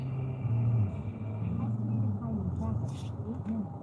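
A car creeps through traffic, its low engine and road rumble quiet and steady from inside the cabin, with a few soft clicks and bumps over the drone.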